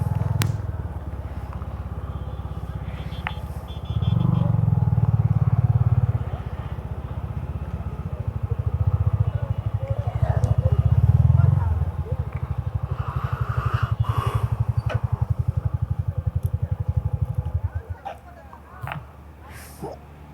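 A motorcycle engine runs near roadside shops and tea stalls at night, giving a steady low rumble that swells louder twice before idling down and cutting off near the end.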